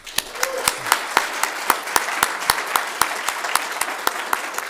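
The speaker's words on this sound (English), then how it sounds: "Everyone give a round of applause." An audience claps after a keynote talk at a programming conference, with sharp, evenly spaced claps from a moderate crowd, sustained and fairly close.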